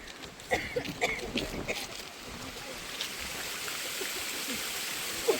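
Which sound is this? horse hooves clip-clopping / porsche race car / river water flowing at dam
river water flowing at dam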